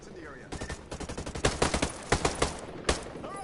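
Rapid bursts of automatic gunfire and single shots in the tactical shooter Ghost Recon Breakpoint, loud and close, coming in irregular clusters over steady background noise with a few sharp louder cracks.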